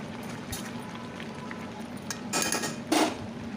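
A lid is set down on a cooking pot of chicken curry, giving a couple of brief metallic clinks and clatters near the end over low kitchen background noise.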